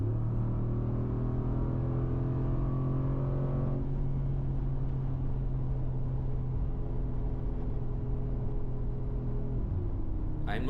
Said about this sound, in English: for now I'm all about sticking with this iconic AMG sound. There's just something about this V8 engine that makes this car so special.